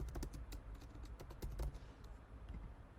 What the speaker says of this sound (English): You're gonna have to hear me type.